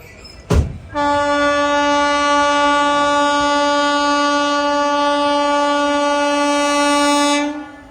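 A loud, long train horn blares almost continuously as a non-stop goods train passes through a station platform, preceded by a brief sharp thump, with the horn holding steady for several seconds before cutting off.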